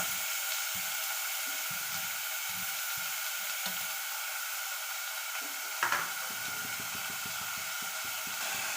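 Onions frying in a pan give a constant close crackling sizzle, with soft stirring scrapes and one brief clatter near the end, and no voices.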